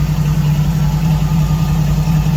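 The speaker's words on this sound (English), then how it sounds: "The 390 sounds pretty good. It's just the mufflers that are cheap." A Ford 390 V8 car engine running through cheap mufflers, a loud, close, steady low rumble at a constant idle.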